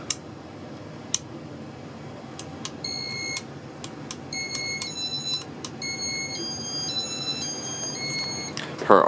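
Casablanca Spirit of Saturn ceiling fan from about 1986 in demo mode, giving a series of short, very high-pitched electronic beeps and tones scattered over a steady room hum, some clustered in quick runs.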